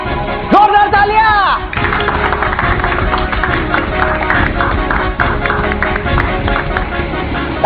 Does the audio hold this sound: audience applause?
yes